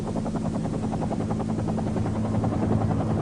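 A government helicopter hovers over a soccer field above Medellín, its rotor chopping in a steady rapid thump with a droning engine hum, loud and continuous throughout.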